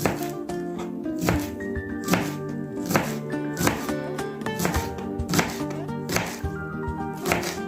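A knife chops green onion lengthwise on a cutting board for a quick salad. Steady, rhythmic thuds repeat close by over soft background music.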